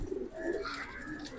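A flying pigeon coos softly nearby, with a short run of low, throaty coo notes over faint background hum and no talk.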